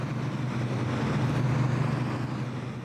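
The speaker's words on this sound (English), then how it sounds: "It is stack upon stack of computer servers, and the fans needed to cool them." A steady, droning whir of many cooling fans from stacks of crypto-mining computer servers, with a low hum underneath, constant and unbroken throughout.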